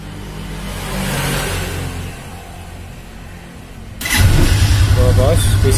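A quiet stretch with faint background noise, then a stalled motorcycle engine abruptly catches and settles into a steady, loud idle nearby.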